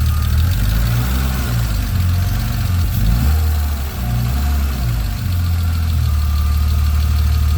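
A BMW M3 engine idles after sitting unused for eight months, with a steady, loud low rumble and a ticking lifter clatter running throughout.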